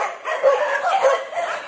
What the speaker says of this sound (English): every single dog knows dinner time is fast approaching